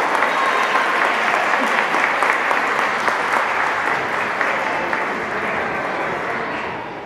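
Audience applause at a Latin dance competition in Valdivia, a dense, steady roar of many clapping hands that carries on for several seconds and fades slightly near the end.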